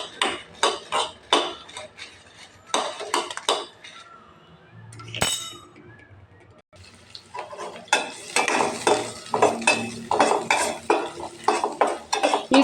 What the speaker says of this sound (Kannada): ಸ್ವಲ್ಪ ಎಣ್ಣೆ ಹಾಕೊಂಡು ಮೆಣಸಿನ್ಕಾಯಿ ಹುರಿಯಿರಿ.